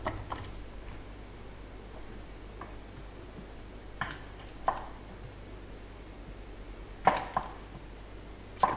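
Knife chopping apples for apple pie burritos on a kitchen cutting board, a handful of sharp, scattered chops spaced seconds apart over a steady low hum, no talking.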